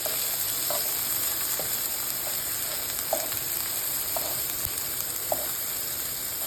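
Shrimp curry ingredients fry in mustard oil in a pan with a steady, close sizzle and hiss. Light clinks of stirring come through now and then.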